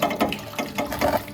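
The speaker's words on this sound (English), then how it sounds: "which goes across to a pump over there, which then pumps up water through here" A water pump pushes water up into a reservoir, giving a rough, rhythmic churning and splashing that pulses roughly every few tenths of a second, close and fairly loud, with no voices.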